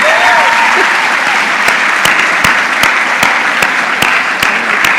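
An award-ceremony audience applauds Joytown Special School of Kiambu County, sustained dense clapping filling the room with a few sharper claps standing out and a voice faintly underneath.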